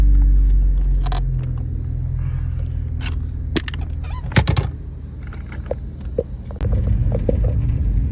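BMW E46 car driving on the road, a steady low engine and road rumble throughout with a few sharp clicks and knocks from the cabin, the drone rising louder near the end.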